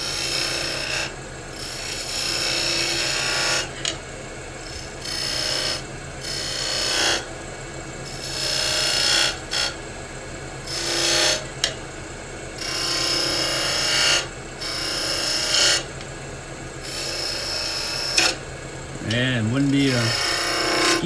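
A wood lathe spins a pepper mill blank while a tool cuts beads, producing repeated rasping bursts of cutting separated by short pauses, over a constant motor hum, with a brief tonal squeal near the end.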